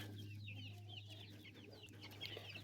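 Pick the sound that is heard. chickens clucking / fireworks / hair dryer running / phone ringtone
chickens clucking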